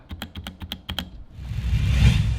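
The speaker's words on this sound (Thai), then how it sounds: "อย่างที่บอกไปเสียงมันจะนุ่มแน่นนะครับ เพราะว่าเขามีการลองโฟมอะไรต่างๆ มาทุกจุด" Rapid clacky keystrokes on an RK mechanical keyboard with foam-dampened, soft and solid-sounding keys, about seven crisp close taps in the first second, then the typing stops and a rising broadband rustle fills the rest.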